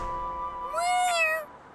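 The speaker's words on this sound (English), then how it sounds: "Oh, it's a cat." A cartoon cat gives a single drawn-out meow that rises and then falls, fairly loud and close, with no talking over it.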